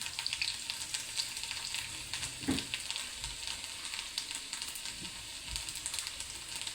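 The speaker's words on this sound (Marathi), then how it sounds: "तेल छान गरम झाल्यानंतर त्याच्यामध्ये जिरं घातलं जिरं घातल्यावर त्याच्यामध्ये लसूणाच्या पाकळ्या घातल्या" Cumin seeds and garlic cloves sizzle and crackle steadily in hot oil, a dense continuous frying hiss with scattered pops and an occasional stir, heard alone with no voices.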